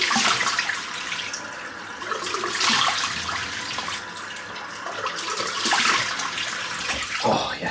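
Tap water runs steadily into a bathroom sink during a wet shave, a continuous close splashing rush with slight swells and no talking.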